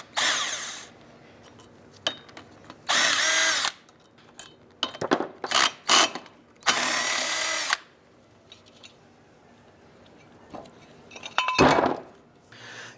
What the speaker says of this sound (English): Using a 17mm thin wall socket in our impact, we're going to go ahead and remove the brake rotor bolts.